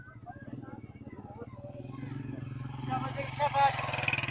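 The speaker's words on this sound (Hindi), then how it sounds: "वो सामने जो है हीटर इंजन चल रहा है" A heater engine runs nearby with a steady, rapid chugging thump that continues throughout while someone talks over it.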